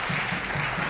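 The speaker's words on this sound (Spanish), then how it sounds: "así que un aplauso a Hitori, por favor." A brief burst of audience applause at a panel of Puerto Rican animators, with steady, dense clapping from a seated crowd, moderately close and uninterrupted by talk.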